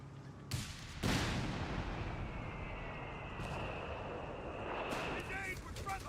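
Mortar half-track and leIG infantry gun firing in Company of Heroes 3: a few heavy booming blasts early on and near the end, over a continuous rumble of battle noise.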